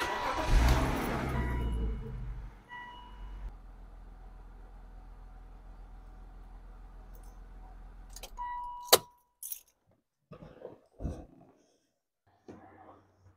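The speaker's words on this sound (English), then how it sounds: "I'm going to start the engine, cycle that oil through, and then we'll recheck our level before we add the final quart." A BMW engine is started during an oil change, giving a loud burst that settles into a steady idle hum before cutting off. Scattered clicks and clatters follow in the quiet afterward.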